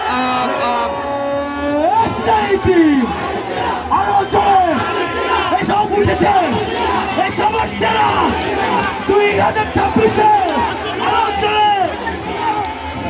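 Large crowd of Argentina football fans at TSC chanting Messi's name after an Argentina goal, loud rhythmic massed voices with shouts and cheering in a dense, continuous roar.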